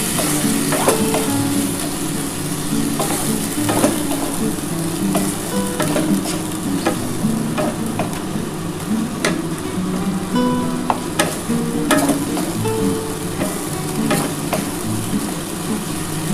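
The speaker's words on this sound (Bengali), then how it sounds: "যতক্ষণ না তেলটা ছেড়ে ছেড়ে আসবে ততক্ষণ কিন্তু মশলাটা কষাতে হবে" A masala of onion, ginger, garlic and tomato fries in oil in a pan, sizzling loudly and continuously while a utensil scrapes and stirs in repeated strokes, close up with no speech.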